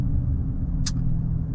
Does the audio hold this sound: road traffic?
yes